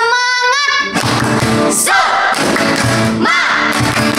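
Children and adults at a church Sunday school service answer a spirited clap-and-shout chant, with loud rhythmic claps and group shouts repeating in bursts after a leader's sung cue.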